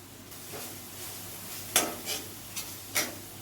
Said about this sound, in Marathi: मी सगळं बारीक गॅसवरच परतते